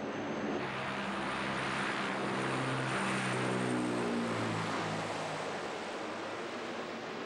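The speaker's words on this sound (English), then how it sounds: "A SARTEC helicopter and plane take off from the station." A search-and-rescue helicopter and a plane take off together from their station, making a broad, loud roar of engines and rotors with a droning propeller tone that swells slightly toward the middle and holds steady at a moderate distance.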